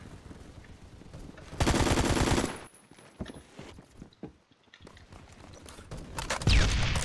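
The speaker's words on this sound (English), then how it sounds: "Lots of gunfire up here." Gunfire in the Phantom Forces shooter game: a loud, sustained burst of automatic fire dominates the middle, with scattered shots and clatter before and after and another loud burst near the end, with no speech.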